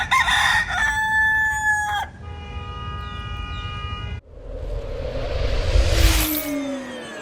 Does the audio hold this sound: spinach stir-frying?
no